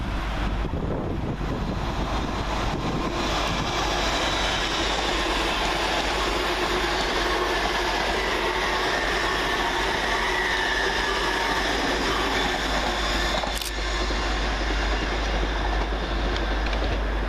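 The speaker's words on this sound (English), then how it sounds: "Coming the opposite way for LNER is 800-107, working the 1 Echo 11 from Aberdeen to London King's" An LNER Class 800 unit, 800-107, runs through Peterborough station on an Aberdeen to London King's Cross service, a steady close rumble and rail clatter holding for about seventeen seconds with wind buffeting the microphone.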